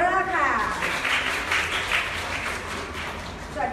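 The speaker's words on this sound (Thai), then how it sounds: "ขอเสียงปรบมือต้อนรับคุณมาริโอ มาเรอร์ค่ะ" Audience applause welcoming actor Mario Maurer at a royal exhibition event, a steady wash of clapping from a crowd, with a voice talking faintly beneath it throughout.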